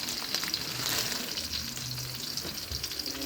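Onions frying in a pan for Cantonese fried rice give a dense, continuous sizzle with occasional stirring scrapes, close up and without voices.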